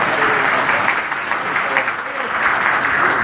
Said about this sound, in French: je vous demanderai d'applaudir très fort mon ami Mbagnick.